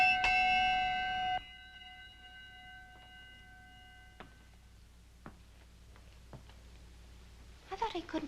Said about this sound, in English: I ring that bell whenever I want something.